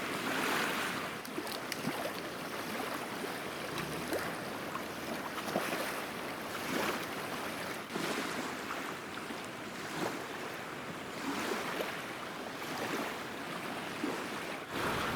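A river running high after rain, about nine feet above summer pool along a backpacking trail, gives a steady broadband rush of moving water with slight surging, continuous and fairly close, with no voices.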